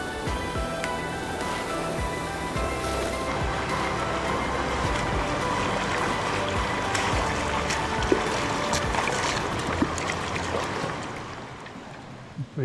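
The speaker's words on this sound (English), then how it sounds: "We're down in the main river, the Pohongara." The Pohongara river in the Ruahine Range rushes in a steady, close, broadband roar of flowing water that stays loud and unbroken before easing slightly at the end.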